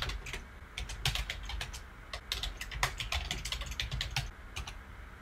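Rapid typing of a command on a computer keyboard at a networking workstation, a close, steady run of light key clicks with brief pauses and no talking.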